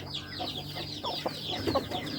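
A hen clucks in a steady run of soft, throaty calls while waiting for a nest to empty so she can lay an egg, close by and with no talk.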